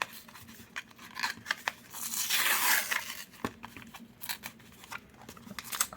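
Pokémon booster pack torn open by hand without scissors: crinkly foil rustling and crackles building to a longer ripping tear in the middle, then more handling crinkles, close and moderately loud.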